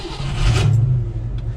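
A manual-transmission car is started with the key in neutral with the clutch pressed: a brief crank, then a low, steady engine rumble that holds close and loud throughout, with no talking.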